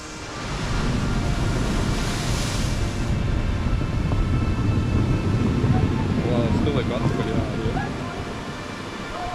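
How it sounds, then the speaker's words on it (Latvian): Ocean surf on the stony Lombo Gordo beach on São Miguel in the Azores, a broad rushing wash rising and holding before easing off, mixed with wind noise, with brief voices near the end. "īpašu dobju skaņu, kas veidojās okeāna viļņiem atkāpjoties no krasta un kustinot akmeņus"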